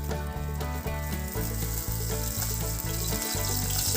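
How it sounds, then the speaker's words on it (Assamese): Two dried red chillies sizzle in hot oil in a pan while a local chicken curry is cooked. The sizzle is loud, steady and crackling throughout, close by and not covered by any talk. "এতিয়া মই ইয়াতে তেলখিনি গৰম হৈয়ে আছে। ইয়াতে মই এতিয়া দুটা শুকান জলকীয়া দিছোঁ।"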